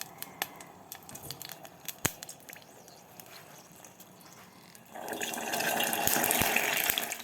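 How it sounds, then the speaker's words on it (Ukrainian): Hot water brought nearly to a boil is poured into flour for galette dough; a steady splashing pour starts partway through after some light clinks and rustles, loud and close. "і вливаю у муку."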